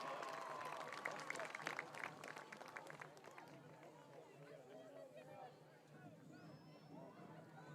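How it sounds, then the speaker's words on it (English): Football stadium crowd at a high school game between Prescott and Ellsworth applauds and cheers for the Ellsworth dance team, a steady wash of clapping and chatter that is loudest at first, then settles into a busy crowd murmur. "A round of applause for the Ellsworth dance team."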